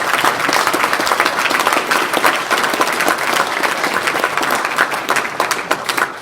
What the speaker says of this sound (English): which deserves a round of applause